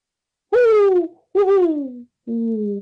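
A human voice imitates a great horned owl, giving three deep, sliding hoots in a row, loud and close with short pauses between them.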